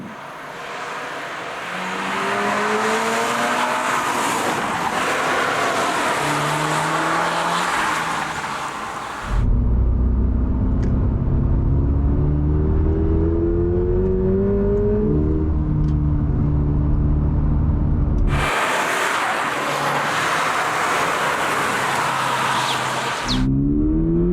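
A 2022 Subaru BRZ accelerates hard along a road, its engine climbing through the revs in repeated rising pulls between gear changes. The sound is steady and close, heard from inside and outside the car, with no talking.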